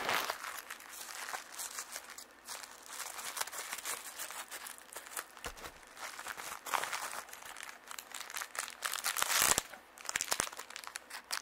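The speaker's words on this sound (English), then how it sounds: "So I'm just gonna unwrap this right now." Packaging around a Yazole 318 men's watch being unwrapped, with steady close crinkling, crumpling and occasional tearing of wrapping for about eleven seconds, no talking.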